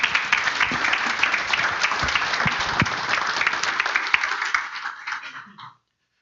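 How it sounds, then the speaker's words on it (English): An audience breaks into loud, dense applause for a speaker at a talk on defending the unborn, holding steady for several seconds before tapering off and stopping abruptly. "Let's give Nathan a nice round of applause"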